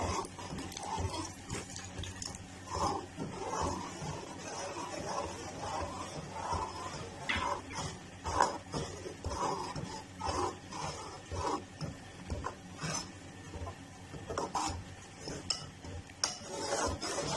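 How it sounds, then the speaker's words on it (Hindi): A spoon scrapes and clinks slowly around a pot of soup, irregular soft knocks and stirring sounds spread over the whole stretch, close and moderately loud with occasional brighter metallic taps. "और अब आहिस्ता आहिस्ता चम्मच चलाते रहेंगे और इसको डालते जाएंगे।"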